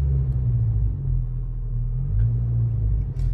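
A car engine running under throttle, with a steady low rumble and mild rises in pitch and loudness as the revs shift, heard close with no talk.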